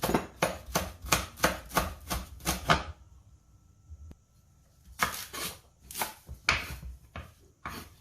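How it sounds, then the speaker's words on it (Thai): Chili, shallots, garlic and culantro chopped with a knife on a board for a spicy fish sauce dip, a quick run of crisp close knocks, a quiet gap, then a second burst of chopping. "ก็จะซอยทุกอย่างใส่ลงไปนะคะ"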